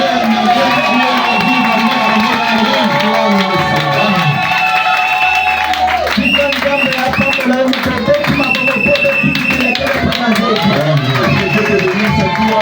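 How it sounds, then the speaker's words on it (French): A church congregation cheers and shouts for joy, a loud continuous crowd roar of overlapping voices with music-like tones running through it, filling the whole stretch. "qui a acclamé en poussé les cris de joie de Jésus"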